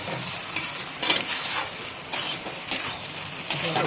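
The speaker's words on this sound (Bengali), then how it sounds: "মিক্স করে দিচ্ছি যাতে ইভেনলি সব জায়গায় ছড়িয়ে যায়" Banana flower curry with prawns and garam masala is stirred in a hot pan, with a bright frying sizzle and rhythmic spatula scrapes about every half second, close and fairly loud.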